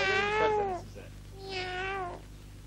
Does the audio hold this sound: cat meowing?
yes